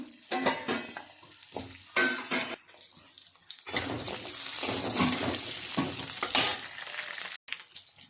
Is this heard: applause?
no